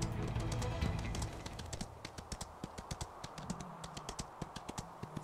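Horse hooves clip-clopping in the Ostwind horse-riding video game, a regular rhythmic series of sharp hoofbeats following a louder opening rumble, close and clear.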